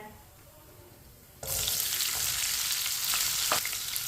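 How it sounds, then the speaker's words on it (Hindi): Whole cumin, coriander seeds and finely chopped onions hitting hot oil for bhindi fry: a quiet start, then a sudden loud, steady sizzle that keeps going, with faint stirring clicks and no voices. "उसी ऑयल में हम डालेंगे आधी चमची साबुत जीरा, आधी चमची साबुत धनिया, 2 बारीक कटे हुए प्याज"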